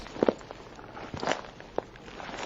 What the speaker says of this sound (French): Quand un bruit de pas s'éleva,